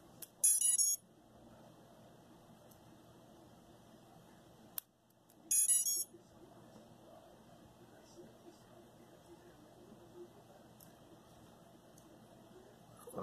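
Two short bursts of high-pitched electronic beeping from a 3-inch quadcopter drone's flight controller, several seconds apart, over a quiet hum with faint background sounds.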